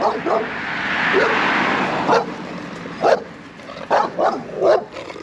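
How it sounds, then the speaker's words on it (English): Several short, high yips from a small puppy, close by, scattered over a few seconds with a soft background murmur. "there's a friendly puppy"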